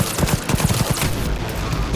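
Rapid gunfire in the video game Cyberpunk 2077, a dense, continuous barrage of overlapping shots with a low rumbling body that keeps going for the whole stretch, close and loud.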